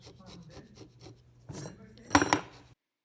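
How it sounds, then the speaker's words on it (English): Heavy stone ground back and forth against another flat but rough stone surface, a series of scraping, gritty rubbing strokes, growing louder and harsher near the end before stopping abruptly. "I needed to grind down one side against another flat but rough surface"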